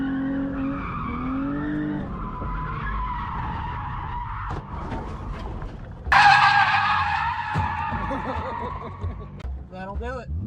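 Cars drifting at Newport Speedway, with loud sustained tire squeal and skidding engine noise in bursts, the sharpest screech surging near the middle, while people talk and laugh nearby throughout.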